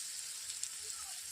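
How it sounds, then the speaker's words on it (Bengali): Garlic paste hits browned onions in a hot pan for a Bengali chicken curry, giving a steady bright hiss of frying with faint crackles, close and even throughout. "পেঁয়াজগুলো ব্রাউন কালার হয়ে গেলে আমি দিয়ে দিচ্ছি রসুন বাটা।"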